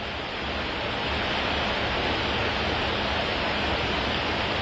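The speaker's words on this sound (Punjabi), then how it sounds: "ਕਾਲਜ ਦੇ ਵਿੱਚ ਮੀਂਹ ਪੈਂਦਾ" Steady rain falls at a memorial college in Seechewal village, a dense continuous hiss of drops that stays even and fairly loud throughout with no voices.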